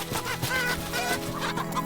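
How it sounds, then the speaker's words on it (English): Chickens cluck and squawk agitatedly in a dense, continuous flurry of overlapping cries, close and fairly loud, with a game-like soundtrack feel, from the video game Love and Deepspace. "The chickens suddenly let out angry cries."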